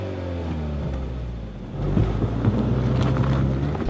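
A 2016 Mazda CX-3 AWD engine revs toward high RPM on a snowy Rocky Mountain off-road drive, a steady drone that swells louder and climbs in pitch partway through, with wind rushing over it.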